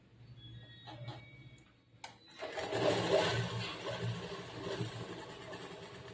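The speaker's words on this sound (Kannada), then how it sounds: "ಡಬಲ್ ಸ್ಟಿಚ್ ಆಗ್ತಾ ಇದ್ದೀನಿ" A sewing machine double-stitches joined pieces of churidar pant fabric, starting with a few short clicks before a loud, steady motor run takes over, close and without talk.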